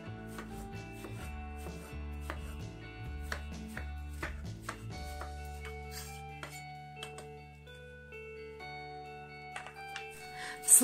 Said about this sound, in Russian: а мякоть нарежем маленькими кубиками.